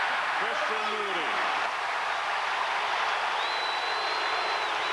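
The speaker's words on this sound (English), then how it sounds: "That will bring a cheer." Steady roar of a college basketball crowd cheering for Kansas Jayhawks player Christian Moody, loud and sustained throughout, with a commentator's voice briefly over it.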